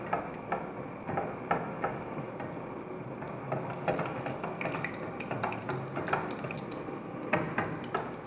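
A chile relleno frying in hot oil while oil is splashed up over its sides, a steady close sizzle with small pops and ticking spatters running throughout, no voices.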